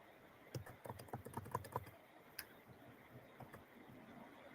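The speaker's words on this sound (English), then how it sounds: "I was just typing an answer in the chat." Rapid typing on a computer keyboard during an online meeting: a quick burst of close key clicks, then a few scattered taps over a quiet room hum.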